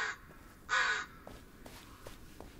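A crow in the horror game Blair Witch gives a single loud, harsh caw against a quiet forest backdrop, followed by faint soft ticking sounds and no speech.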